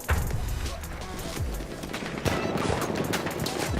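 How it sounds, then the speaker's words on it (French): A submachine gun fires in Battlefield 1 in quick rattling bursts, close and fairly loud, mixed with game ambience and scattered impact sounds. "Ça m'a l'air d'être une mitraillette."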